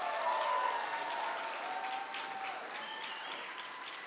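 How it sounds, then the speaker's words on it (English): A crowd at a senior awards night applauds recipients with a steady, full round of clapping, fairly loud at first and easing slightly, with a few cheers and whistles mixed in. "How about if we give them a last big round of applause"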